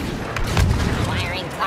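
A grenade blast in Star Wars Battlefront II lands amid continuous battlefield noise, a dull booming thud rising briefly over dense layered combat sound, with voices shouting nearby.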